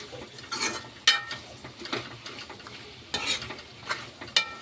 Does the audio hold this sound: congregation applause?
no